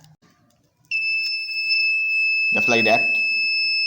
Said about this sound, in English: It is a phone security alarm.